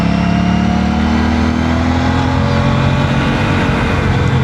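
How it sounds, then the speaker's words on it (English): Aprilia Tuono 457 motorcycle engine, a 270-degree crank twin, running steadily and loud on a sandy road, its pitch holding a continuous drone with slight rising revs throughout. "this engine sounds so good and it performs so well"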